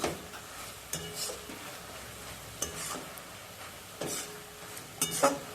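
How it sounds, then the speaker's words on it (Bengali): A spatula stirs a raw papaya naru mixture in a pan: a soft, faint sizzle runs underneath while scraping strokes and metallic clinks come at irregular intervals, with no one speaking. "অনবরত নেড়ে যেতে হবে তা নাহলে কোনাটা ধরে যাবে"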